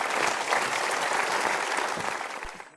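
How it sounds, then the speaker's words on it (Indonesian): A seated audience claps loudly and continuously for two people called to the front at a motivational talk show, then the applause fades out near the end. "Kita berikan tepuk tangan untuk dua orang ini."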